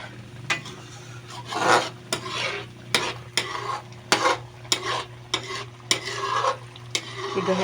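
Ilocano dinuguan pork blood stew stirred in a pan as it cooks down, a spoon scraping and clattering in repeated strokes over a low sizzle, close and without talk.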